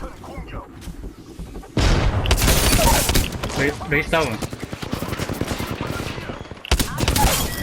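Rapid gunfire from an online shooter game, with sustained bursts and overlapping shots that carry on almost without a break, while several players talk excitedly over the shooting.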